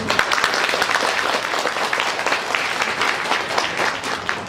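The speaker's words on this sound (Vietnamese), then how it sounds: "hãy xin những thành viên cũ hãy cho nó một tràng pháo tay thật lớn cho những vị khách của chúng ta" Loud, sustained applause from an audience at a gathering in Malaysia, a dense steady clatter of many hands clapping that carries on without a break.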